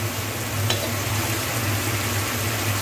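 Ginger and garlic paste frying in a pan as the spice base for an egg curry, giving a steady, dense sizzle that holds at an even level throughout.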